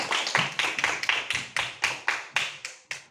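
A class of schoolchildren claps the 'tepuk jempol' pattern: about a dozen sharp, evenly spaced group claps in a steady rhythm, close and clear with no talk.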